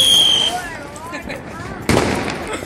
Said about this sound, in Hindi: तो दोस्तों हमने पटाखे फोड़ लिए हैं,